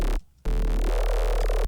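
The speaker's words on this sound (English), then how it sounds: "That sweep is giving it that whoa, right? That's giving it that sort of scream to it, especially with the high resonance." A loud, distorted synth bass with heavy resonance, in a dubstep-style signature bass, drops out for a moment and then returns as a high-pass filter sweeps upward, producing a screaming, growling tone.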